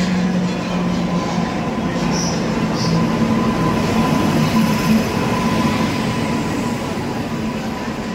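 An Indian superfast express train, the Mahabubnagar–Visakhapatnam service, runs steadily with a constant loud rumble of wheels and carriages, a faint hum and brief squeals, heard from aboard the moving train.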